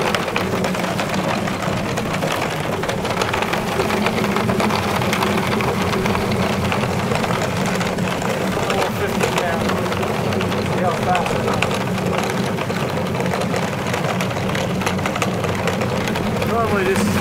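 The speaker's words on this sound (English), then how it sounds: "If you look inside, David, it's throwing all the potatoes to the side" Hobart 6460 potato peeler tumbling a five-pound bag of potatoes, a continuous loud rumbling churn with rattling, steady throughout.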